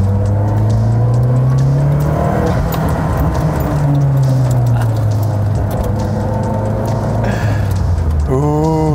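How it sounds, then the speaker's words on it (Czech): A classic sports car engine revving hard around 4000 rpm, loud and close, its pitch rising and falling through sustained pulls before dropping off, with a brief mechanical whir near the end. "Otáčky jsem měl ve 4000 a teprve se to auto probouzelo."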